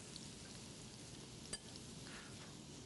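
Finely minced garlic fries in a little vegetable oil, a faint, steady sizzle and crackle with one brief sharp pop, close and without talk.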